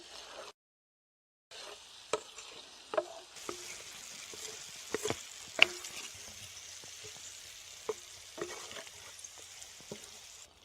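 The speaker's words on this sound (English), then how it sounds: "Now we salt, pepper, and add paprika. Mix everything well" A mixture seasoned with salt, pepper and paprika stirred in a pan for a varenyky dish: a faint soft sizzle with scattered light scraping and clicking spoon strokes, no voices.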